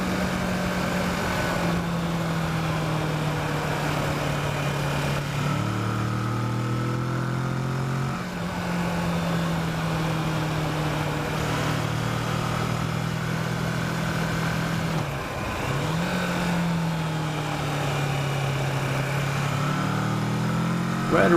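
A Kawasaki Versys motorcycle ridden along Timber Road in Oregon, its engine droning steadily and rising and falling in pitch through gear changes, close and continuous.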